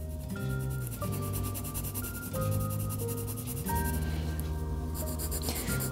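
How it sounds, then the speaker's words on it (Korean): A colored pencil shades on paper with firm, close scratchy strokes in a continuous back-and-forth rhythm, heard alone over soft background music. "손목에 힘을 주어 색을 좀만 더 진하게 칠해 보도록 하겠습니다"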